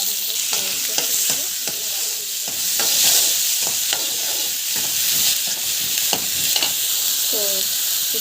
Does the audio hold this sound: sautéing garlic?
yes